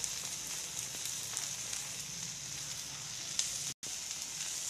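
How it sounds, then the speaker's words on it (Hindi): Okra frying in a pan for bhindi masala, a steady close sizzle and crackle of oil that continues throughout, broken by one brief cut. "अभी हमारी भिंडी अच्छी तरह से भुन चुकी है।"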